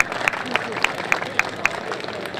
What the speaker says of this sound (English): Let's go ahead and give a round of applause to Alina Cudd and Austin Chumley and Asher F